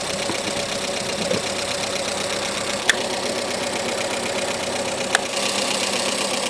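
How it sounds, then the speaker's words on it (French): A Renault Twingo engine idles steadily while warming up, a close, even mechanical hum with a light ticking rattle and a couple of sharp clicks, with no voices over it. "On va laisser chauffer, on va voir si elle tient le ralenti déjà"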